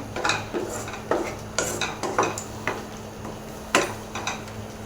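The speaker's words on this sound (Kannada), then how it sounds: "ಈಗ ಚೆನ್ನಾಗಿ ಮಿಕ್ಸ್ ಮಾಡ್ಕೊಳ್ಳೋಣ ಕೈ ತಿರುಗಿಸ್ಬೇಕು ಈ ಥರ" A utensil stirs paneer keema with garam masala in a metal pan, giving repeated close scraping clinks in an uneven rhythm over a low, steady background hum, no voices.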